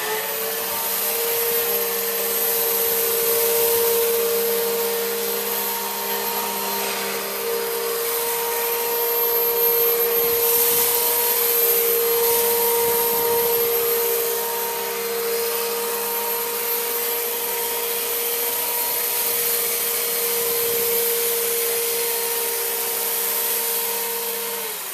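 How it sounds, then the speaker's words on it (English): A Eureka vacuum cleaner runs steadily and loudly with a constant motor whine, its hose and nozzle sucking up walnut chips from carpet, with occasional rattling pickups and no talking. "I'm going to run over it on both sides and the front to demonstrate the cleanability of how well it performs with the hose"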